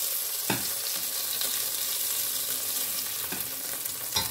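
Onions frying in a pan of hot oil while preparing okra, a steady close sizzle throughout with a few sharper stirring clatters, no talking.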